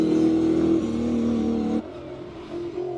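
A classic V8 car engine roars loudly and steadily at the Cape Town hillclimb, its pitch shifting slightly before the sound drops off sharply to a quieter, rougher rumble.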